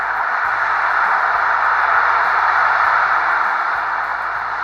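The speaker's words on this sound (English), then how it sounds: "This is the ebb and flow of the waves of the ocean." Ocean waves ebbing and flowing, heard as a steady, even broadband wash that holds at a constant level throughout, with no distinct breaking crashes standing out.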